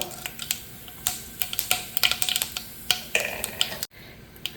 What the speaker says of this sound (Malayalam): കടുകും ജീരകമൊക്കെ പൊട്ടിക്കഴിഞ്ഞാൽ